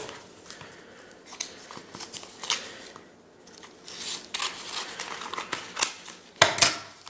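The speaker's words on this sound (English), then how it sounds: "so using scissors today" Scissors cutting through packaging while unboxing WW2 militaria, a series of short crisp snips and rustles that come in irregular bursts, close by, with a louder cluster of cuts near the end and no talking.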